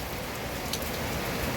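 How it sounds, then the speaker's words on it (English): Heavy rain pours down steadily outdoors, a dense, even hiss of drops with no pauses and no voices. "It done started pouring down raining again just that fast."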